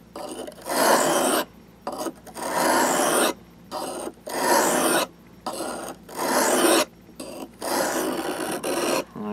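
Steel blade of a Mora knife drawn along a sharpening stone while re-beveling, a series of rasping strokes about a second or so each, separated by short pauses, close and fairly loud with no talk.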